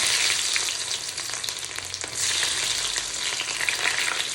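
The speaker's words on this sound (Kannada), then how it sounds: "ಅಷ್ಟು ಹಾಕಿದ್ಮೇಲೆ ಉಳ್ಳಾಗಡ್ಡಿ ಹಾಕ್ತೀನಿ." Onion hits hot oil already popping with mustard seeds and cumin, giving a loud, dense, continuous sizzle with a brief dip and then a renewed surge of hissing, with faint stirring scrapes.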